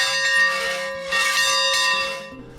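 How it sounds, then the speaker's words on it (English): A lunch bell at a jazz guitar and bass workshop in Yosemite rings loudly with repeated metallic strokes and a long ringing tone, alone and close. "At noon, the lunch bell rings and everyone heads back into the dining hall."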